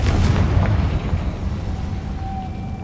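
A Confringo blast spell from Hogwarts Legacy going off as a loud, rumbling explosion with a booming low-end burst that slowly decays into a sustained roar.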